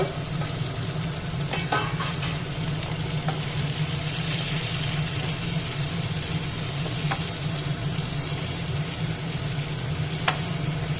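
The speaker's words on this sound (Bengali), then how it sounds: "দিচ্ছি বড় সাইজের 2টো পেঁয়াজ কুচি করে নিয়েছি। এবার এটা ভেজে নেব।" Chopped onions fry in oil with whole cumin seeds, producing a dense, constant sizzle close by, broken only by a few faint clicks of a stirring utensil, with no voices.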